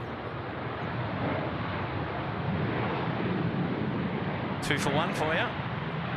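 Garuda airliner taking off from a Sydney Airport runway, a steady distant roar of jet engines with wind noise, while someone talks briefly near the end.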